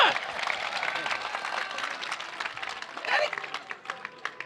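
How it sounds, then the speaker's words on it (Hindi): An audience at a humorous Hindi stage performance bursts into loud, sustained applause: dense clapping with a few voices mixed in, swelling again around the three-second mark before breaking into scattered claps. "एक बार जोरदार तालियां बजा"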